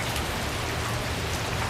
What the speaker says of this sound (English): And it's a good shower.